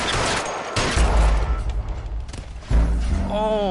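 Gunfire in the detective game L.A. Noire: two heavy, booming shots about two seconds apart ring out amid a busy mix of voices and game sound.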